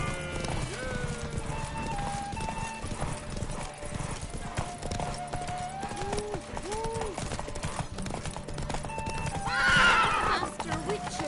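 Roach the horse gallops in The Witcher 3 with steady clip-clop hoofbeats and a loud neigh near the end, under game music and a voice.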